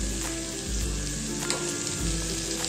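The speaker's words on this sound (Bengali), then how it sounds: "জিরে আর ধনের গুঁড়ো দিয়ে ভালো করে আমি কষিয়ে নেব" Cumin and coriander powder fry in a pan with a steady, close sizzle and occasional scraping from stirring, continuous and even with no voices.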